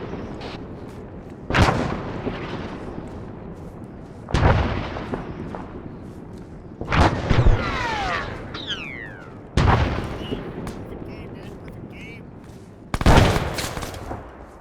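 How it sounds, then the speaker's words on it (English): Five heavy booming blasts in a military game, close and loud, spaced a few seconds apart with rumbling tails and whistling debris between them; one of them is a friendly grenade going off. "That was a friendly grenade."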